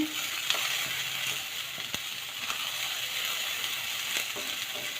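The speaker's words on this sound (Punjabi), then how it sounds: "ਦੇਖੋ ਆਪਣੇ ਪਿਆਜ਼ ਭੁੰਨਣਾ ਲੱਗ ਗਏ ਆਂਗੇ" Onions sizzle steadily in a hot pan for a tawa-style dish, a continuous frying hiss with occasional crackles and a light stir or two, close and alone with no talk.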